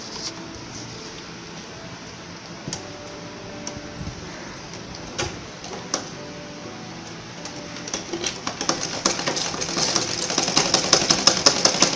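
A sewing machine stitches elastic onto track pants. It is faint and sparse at first, then builds into rapid, rhythmic stitching that grows steadily louder near the end, and no one speaks.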